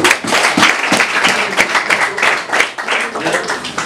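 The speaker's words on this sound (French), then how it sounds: "Vous pouvez applaudir pour lui?" An audience at an official delegation visit breaks into applause, a dense and loud patter of many hands clapping close by, with voices mixed in.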